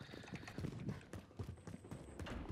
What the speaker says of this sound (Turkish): Ayak sesi. Solum.